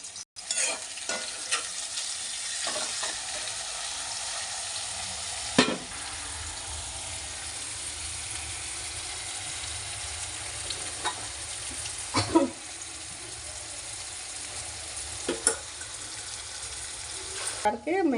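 Onions sizzle in hot oil for a methi chicken curry, with a constant frying hiss and occasional louder scrapes and clanks as a spoon stirs the pan, close and steady with no talking.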